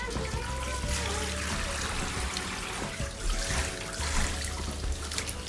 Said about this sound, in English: And then make sure you give it a good rinse.